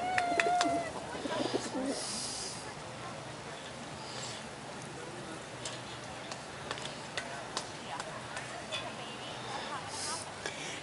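Hmong chickens at feeding time make scattered soft clucks and quick pecking ticks over a steady outdoor hum, with a brief louder call near the start.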